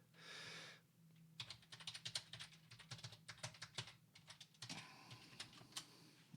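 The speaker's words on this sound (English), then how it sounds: "That thing when you're typing, but it's not going in." Rapid clicking of keys on a computer keyboard as a password is entered, a burst of close, uneven taps lasting several seconds after a brief hiss, with no voices.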